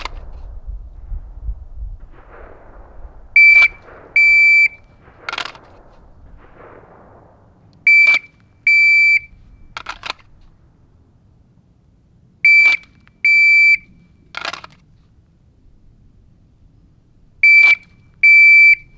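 Electronic shot timer during pistol draw practice, giving short sharp beeps in pairs several times, each beep followed by loud close pistol shots, with quiet gaps between the strings.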